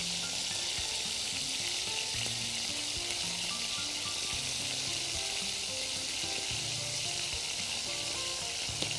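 Food frying and sizzling in a pan while it is stirred, a steady loud hiss with occasional scraping and clinks of a utensil against the pan, with no talking over it.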